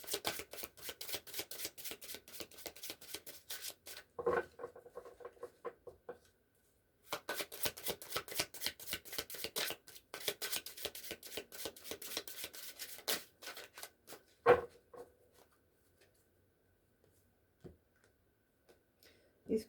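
Thick tarot cards are shuffled in quick riffling runs of dense clicks, close and soft, with a pause midway and a few scattered taps near the end.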